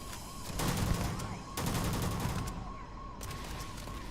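Rapid bursts of heavy gunfire from an overpowered weapon in the space game Starfield, two dense volleys and a later third burst over constant background game noise.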